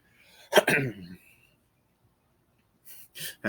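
A smoker's harsh, rough cough bursts out near the start, followed by silence and then a short breathy voice sound at the end.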